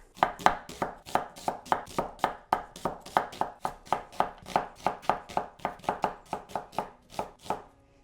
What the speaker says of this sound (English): So I am just gonna thinly slice 4 onions.